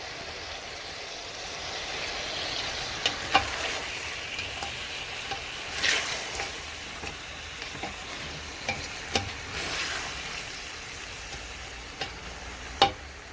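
Onions and chicken fry with spices in a pan, giving a steady soft sizzle broken by occasional scraping and clacking as the mix is stirred.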